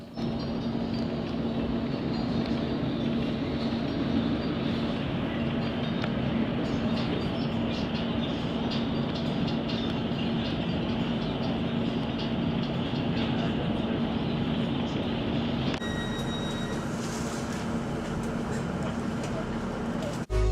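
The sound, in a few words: train ride near Sunderland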